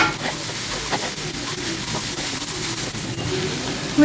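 Spices and chopped tomatoes for chana paneer masala frying in a pan, a continuous close sizzle with stirring scrapes throughout.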